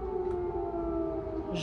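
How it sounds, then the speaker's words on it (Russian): A siren wails steadily outside, a sustained tonal howl holding pitch, heard from some distance over a low background hum. "Сирена, сирена, сирена."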